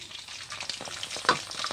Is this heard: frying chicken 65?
yes